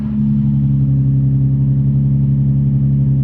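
A car engine idles with a steady, deep droning hum, loud and close, holding the same pitch throughout without speech.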